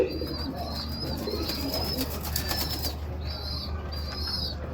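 Black-shielded frillback pigeons in a loft, giving repeated soft coos over a low rumbling background, with bursts of wing flapping in the first half and nearby cooing again toward the end.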